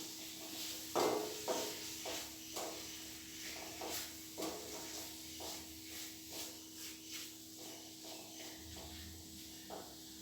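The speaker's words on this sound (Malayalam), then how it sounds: "ഇളക്കി കൊടുക്കണം ആ ടൊമാറ്റോ അതിൽ കിടന്ന് അതിൻ്റെ ഒരു പച്ചച്ചോ മാറുന്നത് വരെ ഒന്ന് വഴറ്റി കൊടുക്കണം" Tomatoes are stirred and sautéed in a pan for a sardine curry, with a soft, steady sizzle and regular scraping strokes of a spoon, all quiet and close.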